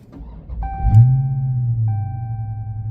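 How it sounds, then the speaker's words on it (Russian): A 2023 Dodge Charger Scat Pack's 6.4 HEMI V8 cranks and fires into a deep, booming idle that swells and then settles into a steady low rumble nearby, while electronic chime tones sound twice. "давайте послушаем еще раз, как заводится этот прекрасный автомобиль."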